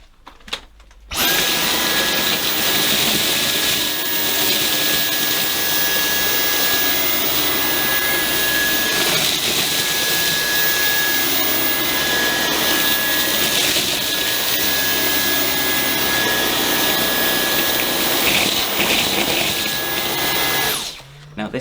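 Dyson cordless stick vacuum cleaner running on carpet, one of the V6, V7, V8 and V10 models, giving a loud, steady motor whine with a high pitched tone throughout, starting abruptly and cutting off near the end.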